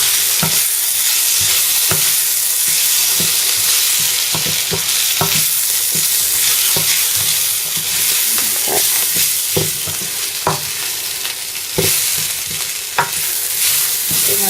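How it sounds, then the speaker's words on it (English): Spices stirred around a hot pan for lamb curry, a steady frying sizzle with irregular scraping strokes of the spoon against the pan, close and loud throughout, no voices. "we just add all these spices in, like so, and mix them around"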